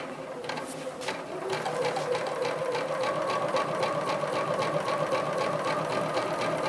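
A sewing machine quilting a diamond and teardrop grid design runs steadily with a rapid, even stitching rhythm, close by and moderately loud, with a few small knocks at the start and no talking.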